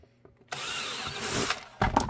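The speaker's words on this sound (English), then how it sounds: "Let's go ahead and drill what we got to do." Power drill boring into a modular holster for a Beretta M9, a short loud whirring burst after a quiet start, then a second sharp burst near the end.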